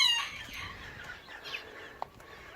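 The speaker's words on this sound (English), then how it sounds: "hello chickens. You making all that noise?" Chickens clucking in a flower garden during a July walk, a faint steady flock chatter with brief squawks, heard without talk.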